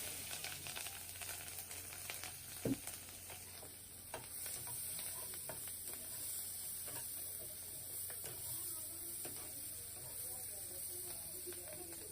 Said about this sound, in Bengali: পেঁয়াজ ভাজাটা হয়ে গেছে